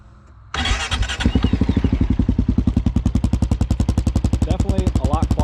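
Motorcycle engine starts up and settles into a lumpy, rhythmic idle through a Big Gun exhaust fitted with a silencer core, close and loud, with steady pulsing firing beats.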